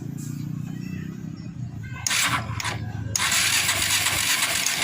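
A Suzuki Shogun 125 R motorcycle is cranked on the starter while its ignition is checked. A close, rough mechanical whir rises in two short bursts, then settles into a steady, loud running noise.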